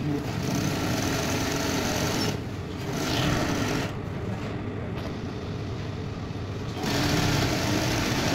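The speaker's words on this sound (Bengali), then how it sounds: "কলার ব্যান্ড সুইং করছি।" A sewing machine stitches a shirt collar band in steady bursts with brief pauses between runs, and it is close and fairly loud.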